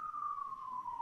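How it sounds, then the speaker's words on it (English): A siren from an ambulance passing by outside gives a single clear steady wail that glides slowly downward. It is moderately faint and heard alone, with no talk over it. "Sounds like you got a little ambulance going by."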